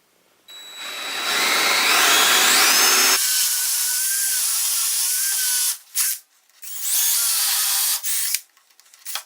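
A power drill boring holes into a wooden resaw fence for a bandsaw, with a steady whining run of about three seconds, then further shorter bursts with brief pauses between them, close and alone without talk.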